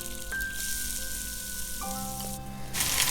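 Onion frying in hot oil with ginger garlic paste, a soft continuous sizzle close by, with a few clinks and a sharper burst of crackling near the end.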